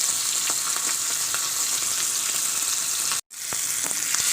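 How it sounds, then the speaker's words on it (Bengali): Fish frying in hot oil, a loud dense sizzle with occasional crackles and stirring ticks, briefly cut off near the end before resuming, no voices. "এবার ভালো করে তেলে ভেজে নেবো"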